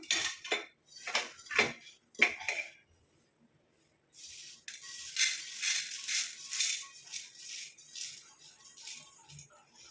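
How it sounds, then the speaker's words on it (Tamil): Roasted ingredients are tipped from an iron kadai onto a plate, giving several clattering scrapes of metal and utensil, a short pause, then a longer run of rattling and scraping up close. "நம்ம ஒரு தட்டில் வந்து கொட்டி ஆற விட்டுடலாம்"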